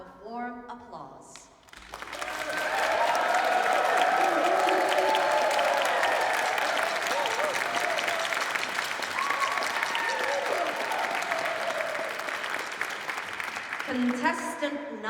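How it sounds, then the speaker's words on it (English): Audience applause for contestants at a game-show-style event, swelling into a dense, sustained wash of clapping that holds steady for over ten seconds, framed by brief talk at the start and end. "Let's give them a round of warm applause."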